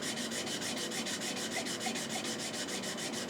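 A woodworking chisel honed on a graded set of sharpening stones, a steady rhythmic back-and-forth rasp of steel on stone, close and moderately quiet, with no talk.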